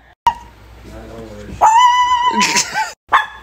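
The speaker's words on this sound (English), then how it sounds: "Are you guys ready to hear Puddin's bark" A small dog named in a home setting gives a few sharp yips and barks, loud and close, with short whimpering tones between bursts and no talking over it.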